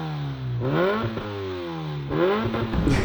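Kawasaki Ninja ZX10R sport motorcycle engine revs up twice in quick succession, its pitch sweeping sharply upward each time before settling, loud and close with no talking.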